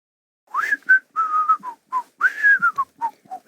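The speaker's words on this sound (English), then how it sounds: "Must you whistle all the time?" A person whistles a short, wandering tune in bursts of sliding and held notes, close and clear with no talking.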